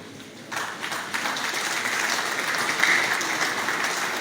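Applause breaks out in a lecture hall at a university inaugural lecture, rising suddenly after a quieter start and swelling into a sustained, fairly loud patter of many hands clapping.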